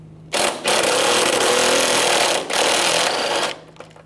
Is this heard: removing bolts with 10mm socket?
yes